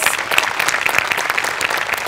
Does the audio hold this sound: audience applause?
yes